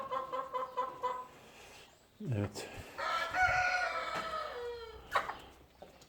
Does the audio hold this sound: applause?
no